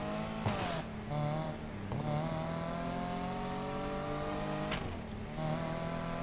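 A car in the Need for Speed Payback video game revs hard and shifts from first into second gear. The engine pitch climbs, drops sharply at each shift, then climbs again, loud and close with no talk.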